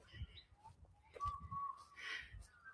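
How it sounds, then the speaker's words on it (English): A butcher bird calls in the Careel Bay mangroves at dawn, giving faint, distant whistled notes, one longer clear tone among them, against a quiet outdoor background. "The old butcher bird never stops."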